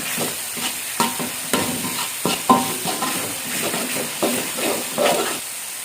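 Blended spice paste for chicken noodles fries in oil while being stirred constantly, a loud steady sizzle broken by repeated scraping strokes of the spatula in the pan, with no talk.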